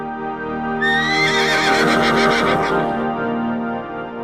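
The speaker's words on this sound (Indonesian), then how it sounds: "Di padang rumput yang luas, kuda berwarna merah kecoklatan dan hitam berjalan santai" A horse gives a loud, close whinny lasting a few seconds, rising then shaking and fading, out on a wide mountain meadow where reddish-brown and black horses graze.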